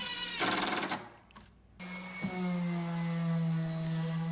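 A power driver sinks 2.5-inch deck screws into a wooden garden bench with a hidden storage compartment, giving a steady, close motor whine that cuts out briefly and then resumes as a sustained, rising drone.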